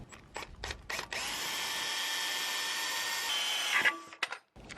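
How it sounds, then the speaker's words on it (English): A power drill bores a small pilot hole into a Big Tex 70CH trailer, whirring loudly and steadily for about three seconds after a few short bursts, then winding down. "First we'll drill a small pilot hole."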